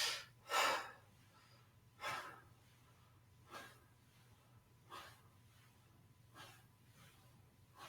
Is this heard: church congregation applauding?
no